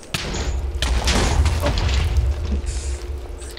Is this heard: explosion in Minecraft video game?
yes